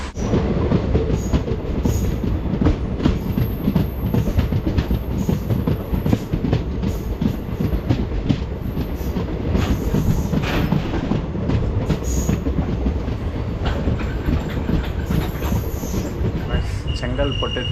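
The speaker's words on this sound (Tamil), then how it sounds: "நம்மளோட ட்ரெயின் பார்த்திங்கன்னா இப்போ வந்து போயிட்டுருக்கு" A train rolls steadily along the tracks with a constant heavy rumble, rhythmic clacking from the wheels and occasional high metallic squeals.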